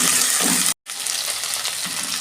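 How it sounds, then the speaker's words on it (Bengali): Potatoes sizzle loudly in a hot pan for a potato curry, a dense, continuous frying hiss cut by a brief silent gap, heard close with no speech. "আমি একটু ভেজে নেবো আলুগুলো।"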